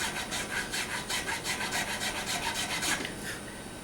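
Small file rasping back and forth in the slots of a guitar nut, slot by slot, to rescue an over-slotted nut; a steady, close scratchy stroking in even rhythm, with no talk.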